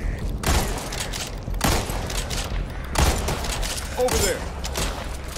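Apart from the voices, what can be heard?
gunfire in Back 4 Blood video game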